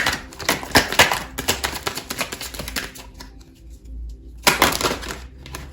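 Tarot cards are shuffled and handled in quick bursts of riffling and slapping, close and fairly loud, with a quiet pause before a final flurry of card noise.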